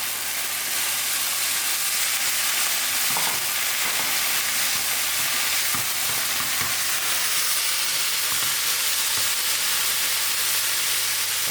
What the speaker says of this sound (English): My onions are done. I will now put in my tomato.